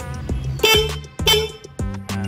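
A Denso dual disc car horn on an NK400 honks three times in short bursts, loud and close, with a two-tone blare.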